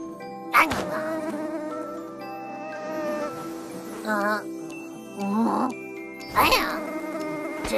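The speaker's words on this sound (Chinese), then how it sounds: "真是只烦人的苍蝇。" Cartoon housefly buzz effect from an animated children's show, a wavering whine that rises and falls in a few short passes over bright musical tones and chimes.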